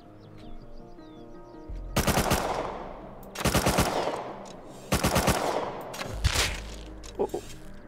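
Several bursts of rapid automatic gunfire in a shooter video game, loud close clusters of shots separated by short pauses.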